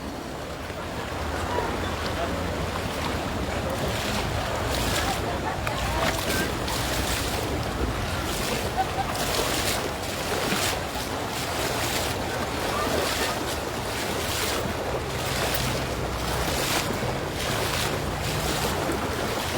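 Overflowing flood water rushes through Bakbara in North Sumatra as a steady, broad roar under gusty wind noise, with people talking nearby throughout.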